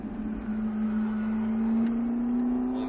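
A Ferrari F340 engine drones steadily as it accelerates, with the tone climbing slowly and evenly throughout, close and continuous under a constant hum.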